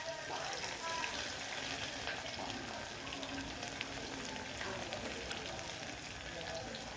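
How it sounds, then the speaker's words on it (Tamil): Chopped big onions and green chillies sautéing in hot oil for vegetable pulao, a faint, steady, continuous sizzle with no breaks. "கட் பண்ணி வச்சுருந்த பெரிய வெங்காயத்தை ஒன்று சேர்த்துக்கலாம். பச்சை மிளகாயும் சேர்த்துக்கலாம்."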